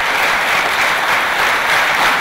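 Loud, dense applause from a large crowd, sustained clapping without a break.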